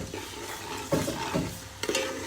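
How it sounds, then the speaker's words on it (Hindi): Onions fry in a pan with a soft background sizzle, broken by a few scraping stirs of a spoon against the pan. "यहाँ पे हम प्याज को फ्राई कर रहे हैं"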